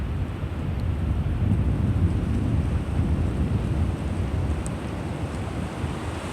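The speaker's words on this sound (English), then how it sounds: "Hopefully that wind isn't hammering on the phone too badly." Gusty wind blasts directly into a phone microphone, producing a constant low rumbling roar that swells and eases without letting up.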